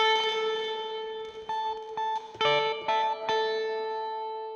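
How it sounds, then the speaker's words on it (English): Sustained synth or guitar tones ring out under a long, washy Ableton Live 11 hybrid reverb tail, with a few brief plucked attacks blooming into the ambient decay. "what I think I want is the hybrid reverb"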